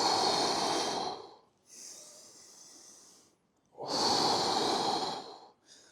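Deep, slow breathing during a foot mobility drill: two long, loud breathy inhales and exhales separated by quiet pauses, close to the microphone, with no talking.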